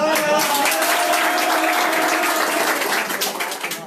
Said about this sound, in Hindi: सुरेश जी वास्ते तालियां बजाओ।